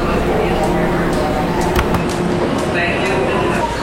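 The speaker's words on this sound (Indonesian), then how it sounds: "ini suasana stasiun kereta Amtrak di Manhattan, New York" Busy station ambience at Amtrak's Penn Station in Manhattan, New York: a steady loud wash of crowd murmur and rumbling rail noise, with occasional brief clanks and faint voices mixed through.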